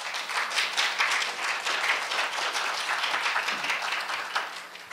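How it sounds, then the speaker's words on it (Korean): Audience applause welcoming a speaker to the stage at a Korea University KU Pride Club health forum, a dense, steady wash of many hands clapping at moderate loudness that holds for the whole stretch and eases slightly at the end. "박수로 맞아주시기 바랍니다"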